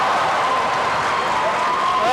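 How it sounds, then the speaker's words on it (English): The East Brunswick home crowd rises in a standing ovation during a 1987 high school boys basketball tournament final against JP Stevens in a gym, a loud, dense and unbroken wall of applause. "And look at the East Brunswick crowd. Standing ovation for the Bears."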